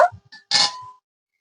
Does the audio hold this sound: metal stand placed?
yes